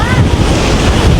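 Strong wind blowing at the beach, buffeting the microphone in a loud, steady rumble with surf-like roar throughout.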